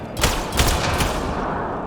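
Rapid bursts of automatic gunfire and overlapping shots crackle through a firefight in the video game Mass Effect: Andromeda, with a couple of louder impacts early on and a steady roar of combat filling the rest.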